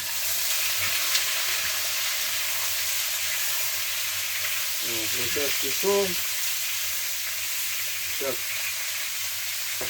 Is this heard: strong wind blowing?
no